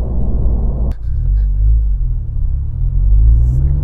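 A tuned Honda Civic FK7 with a rewritten HKS ECU pulling away in first gear, heard from inside as a deep, steady engine rumble that swells slightly as it accelerates.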